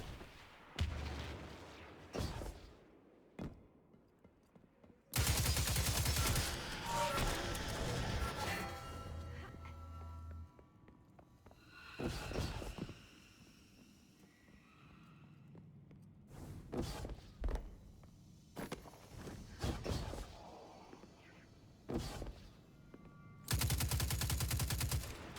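In Destiny 2, enemies fire at the player in loud, irregular bursts of automatic gunfire broken by short pauses and scattered single shots and thuds over about twenty-five seconds.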